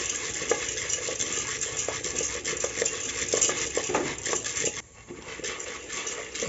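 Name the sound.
stirring popcorn in a pot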